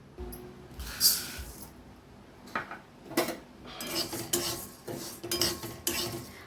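Roasted moong dal scraped out of a kadhai, with a metal spoon or spatula scraping and clinking against the pan in short irregular strokes, fairly close and moderately loud.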